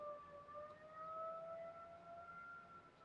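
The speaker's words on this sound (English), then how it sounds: "It's a tornado siren test that we do every Monday." A distant tornado siren on its weekly test wails steadily, its long tone rising slowly in pitch, faint but clear over quiet outdoor background.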